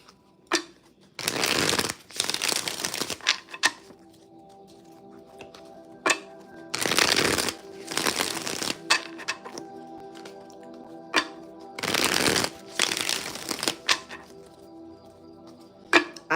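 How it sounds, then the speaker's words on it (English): Three bursts of cards being riffle-shuffled, each a dense crackling flutter lasting a second or two, separated by quieter gaps with light card taps. "I feel like I can't stop shuffling."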